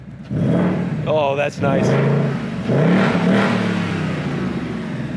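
A 2024 Ford Mustang Dark Horse engine fires and revs after a lock-unlock-lock remote start from the key fob, a low, steady rumble that holds throughout while people talk over it.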